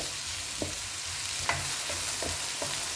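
Leek and sweet peppers frying in oil in a pan, a close, even sizzle with soft periodic scrapes and taps as a utensil stirs the vegetables.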